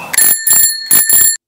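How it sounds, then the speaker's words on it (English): Bright metallic bicycle bell ringing alone, up close and loud: about three quick rings in succession, each with a ringing, sustained chime that cuts off abruptly. "All you're missing is a little bell or the horn."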